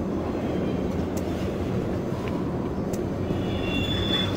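A train in DOOM 3 rumbles continuously, a dense low roar with faint high squeals and rattles, steady and loud without any speech.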